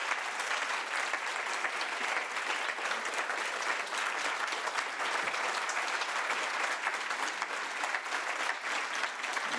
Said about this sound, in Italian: please also give a round of applause to Robin Smith